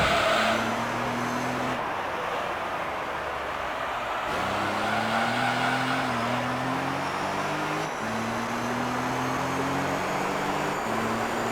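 Racing car engine in the Gran Turismo Concept video game, a Toyota Prius on the Autumn Ring II circuit, droning loud and steady with repeated rising pitch sweeps through gear changes and faint tire squeal, no talk.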